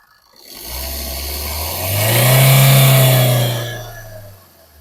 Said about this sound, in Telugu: అండ్ సైలెంట్గా ఉంది ఇంజన్.